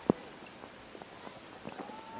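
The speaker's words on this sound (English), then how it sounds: "Rain continuing to come down" Rain falls on the pitch during an evening women's under-20 football match between Canada and St. Kitts & Nevis, a soft steady hiss broken by scattered small taps and a sharp knock near the start, with no speech.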